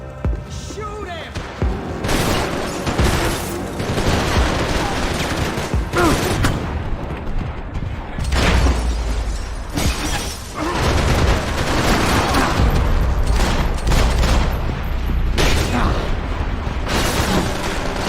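Gunfire from the video game Max Payne 3 crackles in dense, continuous bursts with heavy booms, loud and chaotic, mixed with shouting voices throughout.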